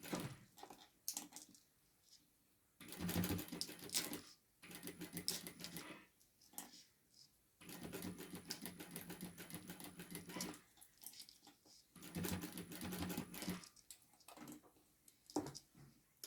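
A sewing machine stitching rolled bag handles runs in several whirring bursts of a few seconds each, separated by short quiet pauses, fairly close.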